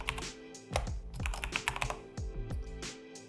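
Rapid typing on a computer keyboard while entering a widget name in openHAB 3 setup software, a close, steady patter of key clicks with a few louder strokes and no speech.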